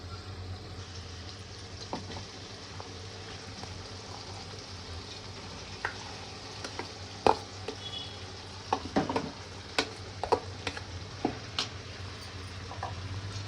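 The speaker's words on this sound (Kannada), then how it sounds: "ಈಗ ಇಸ್ಕೊಂಡಿರೋ ಆಲೂಗಡ್ಡೆನ ಆ ಒಗ್ಗರಣೆಗೆ ಹಾಕ್ತಾಯಿದ್ದೀನಿ." Boiled potatoes being stirred into a hot spice tempering in a pan: a soft constant sizzle, with scraping and tapping strokes growing more frequent and louder in the second half.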